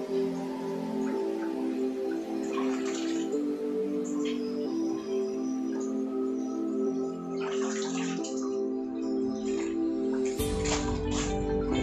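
A Nikita Star NS 104 water pump runs with a steady, tonal motor hum over softly flowing water. A louder rush of water bursts in near the end.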